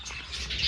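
Parrots calling at a zoo enclosure, a short burst of high chirps and squawks over faint outdoor background, getting louder toward the end.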